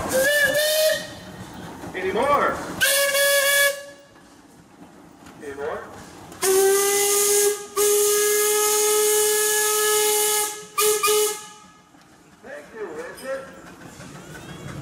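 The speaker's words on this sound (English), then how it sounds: "You got a whistle." A steam engine whistle at a pioneer engineers parade blows in several loud, sustained blasts of varying length, with hissing steam between them and people talking nearby.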